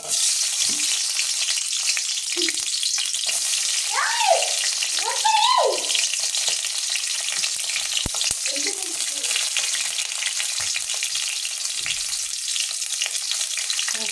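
Tomato, onion and garlic fry in oil for a chicken gravy, making a continuous loud hissing sizzle, with brief voices and a few utensil knocks partway through.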